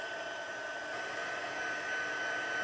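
Heat tool blowing hot air to melt embossing powder, a constant whirring fan roar that holds steady and swells slightly at the end, nobody speaking.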